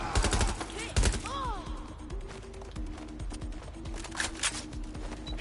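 Gunfire in the Watch Dogs Legion video game crackles in quick bursts at moderate distance, mixed with other game sounds and a rising whistle-like tone, fairly quiet overall.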